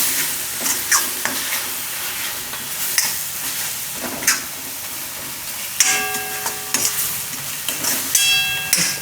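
A spice mixture cooks in a pan for Gujarati palak til thepla, with steady sizzling and frying hiss broken by repeated scraping stirs of a spoon, close and fairly loud, with no talk.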